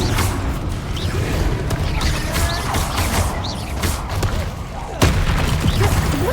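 Bombarda blasting-spell explosions in the video game Hogwarts Legacy: loud booming blasts over a dense, rumbling battle din with clattering effects, and one sharp burst near the end.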